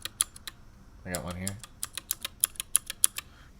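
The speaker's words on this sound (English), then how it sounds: "Gatistotles are a clicky switch." Clicky mechanical keyboard switches, Gateron-type clicky switches, typed in a series of sharp, crisp clacks close up, with a short spoken remark partway through.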